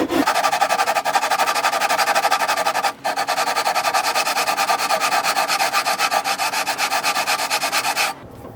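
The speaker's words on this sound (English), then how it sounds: "I'm gonna take care of that just by sanding" Sanding an ebony guitar fingerboard with 80 grit to level it produces a loud, continuous rhythmic rasping of back-and-forth strokes, with one brief pause, until it stops near the end.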